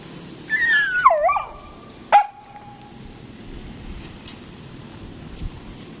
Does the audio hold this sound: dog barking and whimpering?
yes